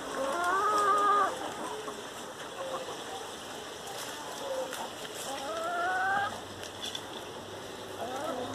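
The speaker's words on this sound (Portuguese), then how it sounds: "Aí minhas galinhadas aí, ó." Backyard chickens near vegetable garden beds cluck and call in short, scattered bursts over a steady background hum, a few birds fairly close, with some brief crowing-like rising notes.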